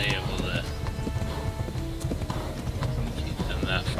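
A horse gallops in the video game Kingdom Come: Deliverance, with steady, rapid hoofbeats under continuous game noise and someone talking over it.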